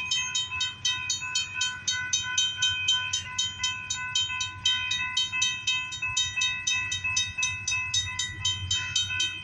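BNSF SD70ACe locomotive hauling a grain train in El Paso rolls past with a steady rhythmic clatter of wheels, while a sustained chord from its K5LLA horn and a ringing bell sound alongside.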